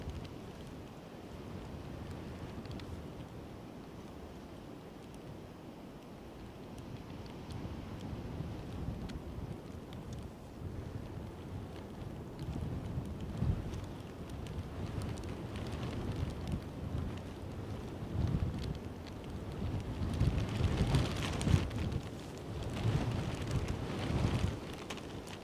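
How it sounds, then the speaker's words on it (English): Strong, gusty wind buffets the microphone at Edinburgh airport, a low rumbling roar that swells in waves and grows louder and rougher toward the end. "Here comes the wind."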